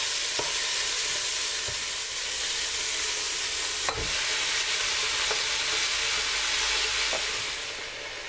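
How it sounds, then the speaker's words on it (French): Minced meat frying in a pan for lasagna bolognese gives a steady, close, even sizzle with a few faint scrapes of stirring, and no talking. "une fois que le tout est bien revenu, on va y ajouter notre viande hachée"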